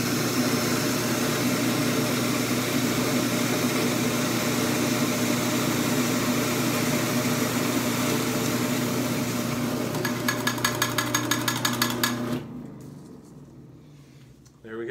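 A Bunn coffee grinder grinds Ethiopian Yirgacheffe beans on a coarse setting, a steady close motor whine with gritty hum lasting about twelve seconds before cutting off, partly under a voice.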